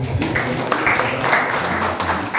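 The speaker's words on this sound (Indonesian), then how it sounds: "Tepuk tangannya buat Yesus ya." An audience at a church seminar clapping, a dense patter of hand claps close by that swells and fades slightly over a couple of seconds.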